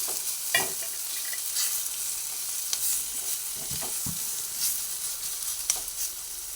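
Ginger and garlic fry in a pan with a continuous close sizzle. Occasional spoon clicks and scrapes come through, and no voices are heard.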